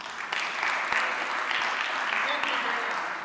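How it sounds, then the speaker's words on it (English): A congregation at a Sunday church service applauds the church band, a dense steady clapping that lasts throughout, with voices mixed in under it. "let's give them a round of applause"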